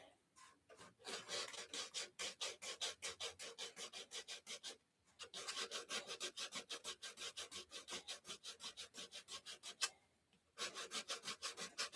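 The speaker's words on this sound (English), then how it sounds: "So what I'll be doing till midnight is sanding." Rhythmic back-and-forth rasping of sandpaper on wood, close and brisk, in two long runs broken by brief pauses.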